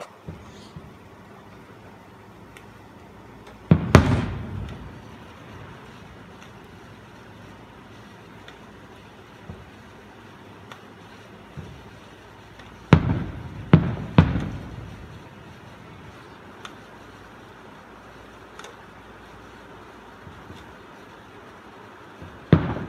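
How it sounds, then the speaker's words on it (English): Distant fireworks show: a few isolated pops and booms, grouped in small clusters, sound faint and far off over quiet background hiss with long pauses between them. "Lightning and fireworks at the same time."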